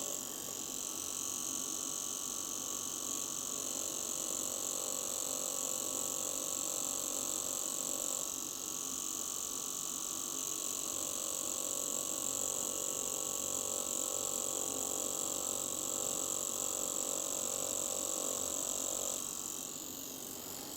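A 3D printed tattoo machine runs continuously at close range, a steady mechanical buzzing hum with a faint rattling texture that holds an even level throughout.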